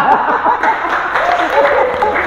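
A gathered audience at a village community event breaks into brief, loud clapping mixed with some chuckles and overlapping voices, short and lively rather than a long ovation.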